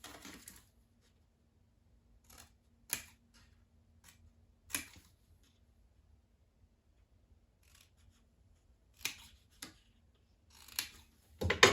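Scissors cut and bevel paper for a scrapbooking project, giving sparse, quiet, crisp snips scattered across a near-silent background, with a small cluster of cuts near the end.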